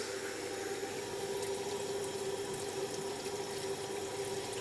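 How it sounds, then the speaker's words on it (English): Water runs steadily from a tap into a basin fitted with a new waste, a constant close hiss and splash with no pauses. "just start running some water in here and then just test for any leaks"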